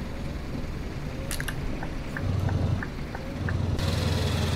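Rain falling in Euro Truck Simulator 2 while driving a Scania T 730 V8, a dense continuous hiss with scattered drop taps over a low engine rumble, loud and steady throughout with no talk.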